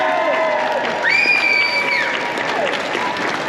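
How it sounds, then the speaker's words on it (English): Audience applause for a Darth Vader costume at a costuming talk at MCM London comic convention, steady dense clapping from a large crowd filling the room, with some whistles and cheering voices over it. "And a big round of applause for our Darth Vader today."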